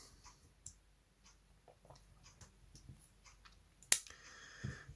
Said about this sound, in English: Finally, scissors.